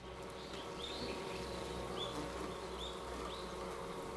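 Wild Japanese honey bees buzzing faintly around a kept colony, a soft steady hum with a few brief rising whines as individual bees pass near.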